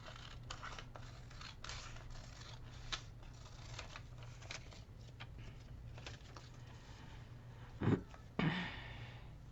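Scissors trim paper for a gluebook in a run of faint, close snips and rustles over a low steady hum, ending with a couple of slightly louder cuts.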